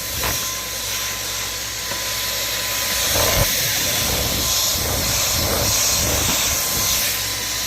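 Shark vacuum cleaner running indoors, a steady loud hissing whine with a faint tonal hum and shifting airflow texture, continuous throughout with no talking.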